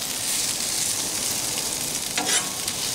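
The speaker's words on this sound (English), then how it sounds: "try to lay them flat so every piece of onion has an opportunity to touch that hot grill" Sliced onions frying on a hot Blackstone griddle give off a steady, close, loud sizzle, with a brief scraping stir partway through and no talking.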